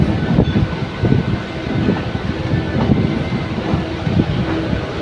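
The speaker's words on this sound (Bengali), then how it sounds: "এধারে একটা লোকাল ট্রেন যাচ্ছে," A local train passes at Kharagpur railway station with a steady, close rumble and repeated clattering of wheels over the rails, with no voices.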